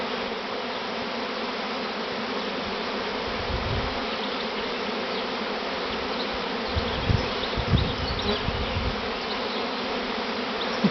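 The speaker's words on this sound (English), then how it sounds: "There are bees everywhere." Honey bees of a large swarm hum everywhere in a thick continuous buzz, close and steady, with a few low thumps and bumps near the end and no voices.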